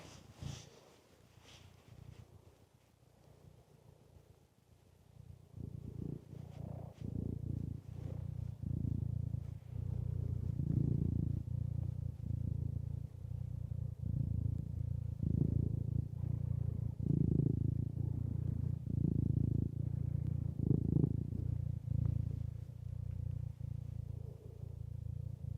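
A cat purrs while held in someone's arms, a low steady rumble that starts quietly and grows louder and continuous, close up, with a little handling clatter early on.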